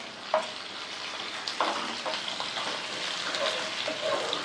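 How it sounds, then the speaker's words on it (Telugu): Green chillies and karonda pieces fry in a pan with a steady soft sizzle, broken by occasional scrapes and stirs of a spoon against the metal, close and moderately quiet with no talking. "అవి కాస్త వేగిన తర్వాత వాక్కాయ ముక్కలు వేసేస్తాం"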